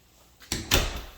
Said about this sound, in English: Light off there and shut the door.